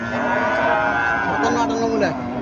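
Cows low at the Chandimura cattle market, a continuous deep moo with sustained tones heard close and loud amid busy market noise.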